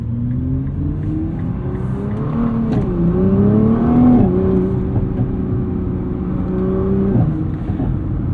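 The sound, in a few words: Nissan GT-R engine accelerating and shifting gears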